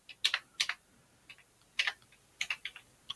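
Bursts of clicky keystrokes on a computer keyboard while entering a MythTV system configuration on a Linux From Scratch build, arriving in short quick clusters separated by pauses, close and fairly quiet with no talking.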